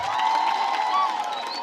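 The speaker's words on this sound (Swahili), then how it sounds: "Pigia yeye makofi." A crowd at a public gathering applauds and cheers, a brief, dense burst of clapping and shouts at moderate loudness.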